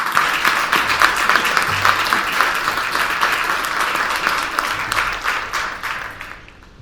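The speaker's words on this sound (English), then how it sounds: "let's give all of our diamond supporters a really big round of applause for their generous support" Loud, sustained applause from an audience at a student recognition celebration, dense clapping throughout that begins fading toward the end.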